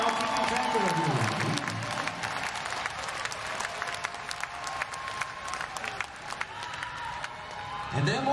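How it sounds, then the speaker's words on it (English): A large crowd at a rock concert in San Diego applauds and cheers continuously, a dense wash of clapping that holds steady throughout, with a voice briefly heard over the crowd. "give a big round of applause to the people who have been doing all that"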